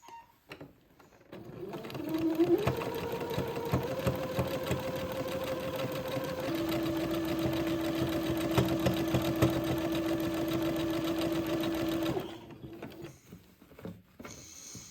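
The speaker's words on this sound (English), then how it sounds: "this will take me a minute to get this zigzagged all along the bottom of the bodice" A sewing machine zigzag stitches along the bottom of a doll's bodice. It starts with a few short bursts, then settles into a steady, close whirring run of about ten seconds and stops abruptly, followed by faint handling sounds.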